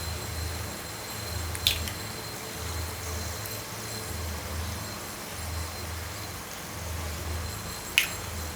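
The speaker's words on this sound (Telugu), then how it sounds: "ఈ 2 ఎగ్స్ పగలగొట్టేద్దాము" Two eggs are cracked into a cluster bean (goruchikkudu) curry: two sharp, close cracks several seconds apart over a low, steady background hum.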